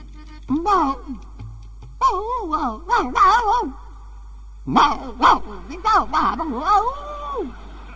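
A person imitates a dog with a run of whiny, yelping barks in two bursts separated by a short pause, voiced close and loud.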